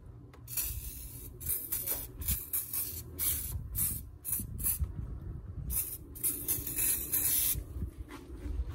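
Engine degreaser sprays in repeated hissing bursts across a car engine bay, short and longer pulses close to the microphone with brief pauses between them.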